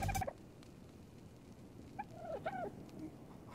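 Dodo birds in ARK: Survival Evolved give a few short, clucking and gobbling calls after a brief loud burst, moderately close over a steady background hum, with no speech.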